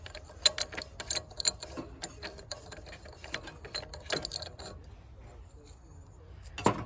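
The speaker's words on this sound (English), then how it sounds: "I'm just gonna take this nut off." Ratchet wrench clicking as it loosens a nut on a Predator 212cc small engine during a rebuild, a run of close, quick ratcheting clicks in bursts with pauses, then a final click near the end.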